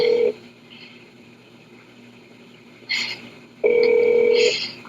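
An outgoing call placed through the TextNow app rings through a phone speaker: two loud electronic ring tones separated by a quiet pause, with a softer burst of sound between them.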